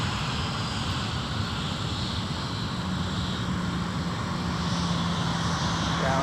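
A Delta airliner arriving on runway 12 right at MSP airport, a continuous broad engine roar with a faint rising whine, loud and steady throughout with no talking.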